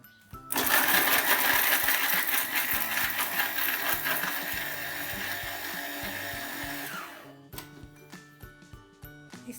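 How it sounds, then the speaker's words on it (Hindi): A kitchen mixer grinder whirs at high speed for several seconds grinding fried dough pieces coarsely, then winds down and stops, leaving quiet background clatter. "अब हम इसको मिक्सर में चलाएंगे।"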